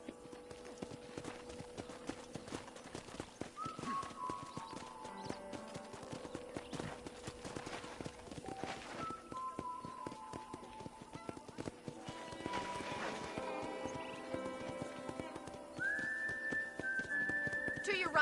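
Horse hooves clip-clop at a trot in Red Dead Redemption, a steady rhythmic beat under game music and voices talking, with a whistle-like tone near the end.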